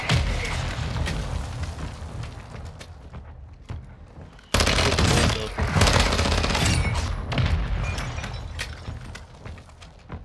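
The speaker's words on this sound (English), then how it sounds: "Mortar on us." Mortar fire and explosions boom and crackle in a shooter video game, a dense burst of blasts and gunfire that drops off briefly, then slams back in loud and close.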